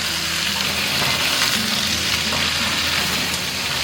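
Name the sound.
king prawns pan-frying in oil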